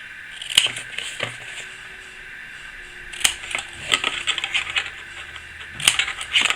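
Scissors snipping paper while cutting a Spellbinders filigree box template, several sharp, close crisp snips spaced irregularly with quiet gaps between, no talking.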